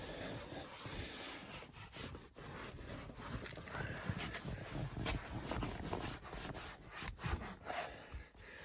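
Lexol leather conditioner being rubbed into leather by hand makes a quiet, continuous scrubbing and rubbing sound in uneven strokes, with no talking.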